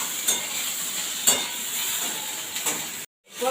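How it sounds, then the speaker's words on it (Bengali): Crushed elephant apple (chalta) fries in a pan with a continuous close hiss and a few sharp spatula clicks, then cuts off abruptly near the end. "তার সঙ্গে চালতাটা ভালো করে ভেজে নেব।"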